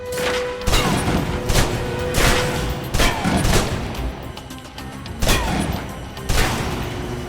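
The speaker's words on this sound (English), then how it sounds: "If you're trapped in close quarters with multiple opponents, the SMGs can help clear the room quickly." Submachine guns fire in the video game Alpha Protocol in loud, rapid bursts, with sharp shots clustering into fusillades and short gaps between volleys.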